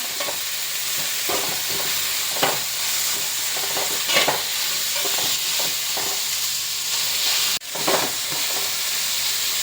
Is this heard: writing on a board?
no